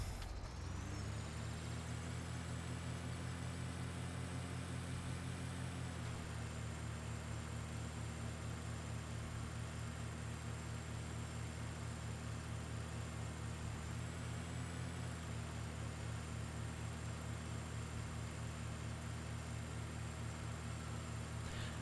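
A tractor in Farming Simulator 2013 runs with a steady, loud, droning engine hum throughout, its pitch shifting slightly twice as it drives, alongside a constant high whine.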